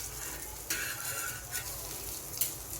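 A buttered sandwich sits butter-side down in a pan, toasting slowly with a soft, steady sizzle and faint frying crackle that swells briefly now and then, no voices.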